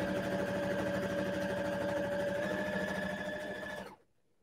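A sewing machine runs at a steady, fast whirring pace while stitching a seam on a pillow made from upcycled ties, loud and close, then stops abruptly near the end.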